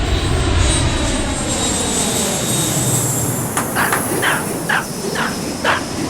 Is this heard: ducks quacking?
no